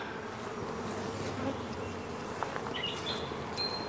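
Honey bees buzz in a steady, close drone around a queen cage, with individual insects whining past now and then; no one speaks.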